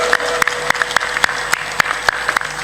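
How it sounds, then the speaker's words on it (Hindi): Loud applause from a satsang audience, sharp rhythmic claps repeating over a steady crowd wash and a faint sustained tone, fairly close and continuous. "बजाओ ताली"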